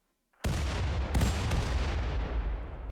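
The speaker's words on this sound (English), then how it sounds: "time to take out that Inferno Cannon" After a moment of silence, an Inferno Cannon in the video game Rimworld fires with a sudden loud boom, followed by a couple of quick secondary blasts and a long, roaring rumble that slowly fades.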